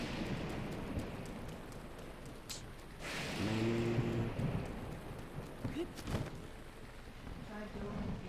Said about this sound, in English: And it's storming over here too.